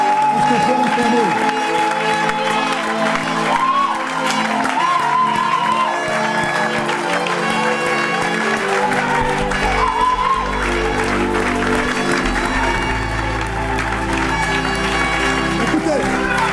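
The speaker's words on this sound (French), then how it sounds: "Est-ce qu'on peut l'acclamer?" Congregation at a French-language church service applauding and cheering in a sustained, loud wash of clapping and whoops that carries on throughout, with music and voices mixed underneath.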